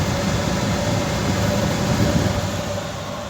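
Front fan motor of a Sunbeam evaporative water cooler running steadily, a constant broadband whir with a faint hum, close and unbroken with no talk.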